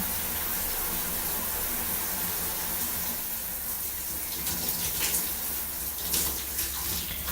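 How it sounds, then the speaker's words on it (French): A shower turned on in a home bathroom, its water spraying in a steady, full hiss that runs unbroken throughout with no voices over it. "Je viens ouvrir la douche."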